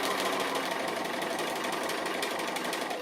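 A sewing machine stitches a kitchen-themed appliqué, finishing the edge of a jar lid, with a steady, close, continuous whirring hum and no pauses or talk.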